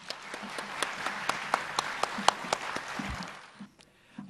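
Concert audience in a Silesian folk music television show clapping in a steady, fairly quiet patter of applause with a few sharper individual claps, tapering off near the end.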